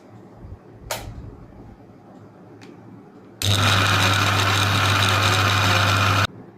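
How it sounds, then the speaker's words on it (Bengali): A kitchen mixer grinder whirs loudly and steadily for about three seconds as it blitzes bread into breadcrumbs, starting abruptly after a couple of light clicks and stopping just as sharply. "এই ব্রেড মিক্সিতে দিলেই গুঁড়ো হয়ে যাবে, গুঁড়ো হয়ে গেলেই ব্রেড ক্রাম্ব তৈরি।"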